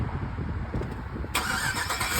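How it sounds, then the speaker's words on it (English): A 2004 GMC Denali truck starting up: a low rumble, then the engine catching about midway with a sudden rise to a steady running sound, close by. "Now the car is starting."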